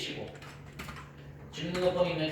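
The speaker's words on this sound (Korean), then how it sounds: "주민등록번호 1번 눌러서 주민등록번호 입력해" Computer keyboard keys tapped in quick, light bursts while a resident registration number is entered into year-end tax settlement software, with a soft voice faintly underneath.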